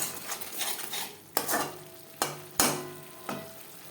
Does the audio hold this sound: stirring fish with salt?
yes